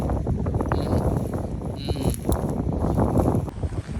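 Strong wind buffets the microphone on an exposed clifftop in Galicia, a loud, steady low roar with gusty swells and some faint higher sounds over it, and no clear talk.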